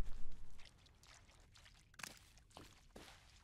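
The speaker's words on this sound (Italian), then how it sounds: "Acqua che si muove" Moving water in the Blair Witch video game: soft sloshing and pouring splashes in the woods, uneven and fairly quiet, with a few sharper splashy bursts.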